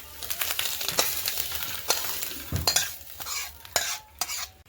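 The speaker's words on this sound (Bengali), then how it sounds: "মাছের ডিম দিয়ে ওলকপি ভাজা হয়ে গেছে" Kohlrabi frying with fish roe in a pan, stirred with a utensil: repeated scraping strokes and clinks over a steady close sizzle, no voices.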